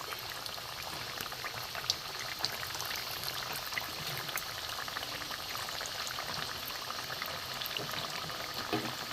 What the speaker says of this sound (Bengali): এবার আমি তেলে ভাজবো, বাড়ির সবার হয়ে যাবে।